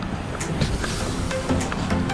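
Roar of Iguazu Falls on the Brazilian side, a 2.7-kilometre-wide waterfall: steady broadband rushing water throughout, loud and continuous, with faint crowd noise mixed in.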